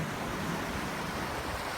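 Gentle sea waves wash against the rocky shore of Yanui Beach in Phuket on the Andaman Sea, a steady, close surf hiss with wind and no voices.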